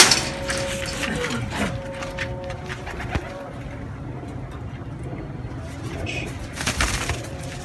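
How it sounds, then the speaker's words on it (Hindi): Pure breeder golden pigeons coo softly in a loft, low, repeated calls with a few wing flaps and faint background noise; a voice speaks briefly. "ये कबूतर है टोटल"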